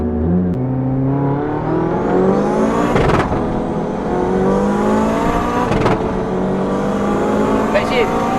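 A Mitsubishi Evo X makes a launch, its engine revving hard and rising through the gears with two sharp shift breaks, loud and close throughout.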